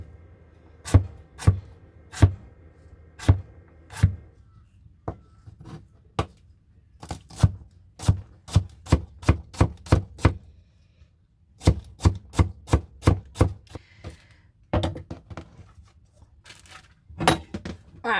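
Knife chopping and dicing salad vegetables on a cutting board, heard as loud, close, sharp strikes in quick bursts and runs with short pauses between, no voices.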